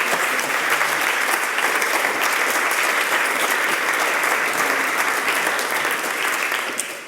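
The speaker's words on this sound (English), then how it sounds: "You deserve a big applause." A large audience in a plenary hall at a science dialogue applauds the presenters, a steady, loud wash of clapping that holds evenly for about seven seconds before easing off at the end.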